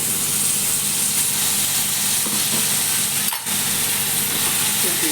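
Ground tomato paste poured onto hot oil with ginger-garlic paste for egg gravy gives a dense, even hiss and sizzle, close and steady, with one brief dip midway.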